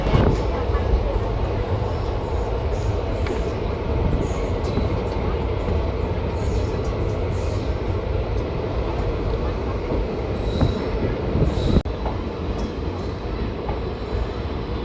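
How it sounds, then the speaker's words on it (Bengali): An intercity express train rolls into New Mal Junction in the Dooars, heard from on board as a loud, continuous low rumble with rattling carriages and a faint wheel squeal, faint voices in the background. "ট্রেন পৌঁছে গেল নিউ মাল জাংশন।"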